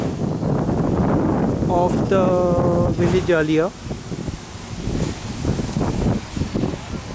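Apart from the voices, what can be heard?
wind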